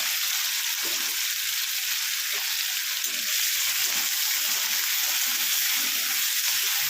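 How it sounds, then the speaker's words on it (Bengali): Small pieces of cut potato stirred in hot oil after the tempering has crackled: continuous close sizzling with soft scraping and tapping of a spatula against the pan. "আমি ছোট ছোট দুটো আলু কেটে রেখেছি, আমি তো 1 মিনিট নাড়িয়ে নেব।"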